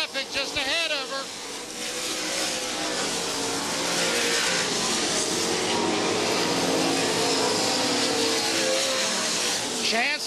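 Race cars roar around a dirt oval in a steady, dense engine drone, with lapped traffic close at hand and commentary over the PA.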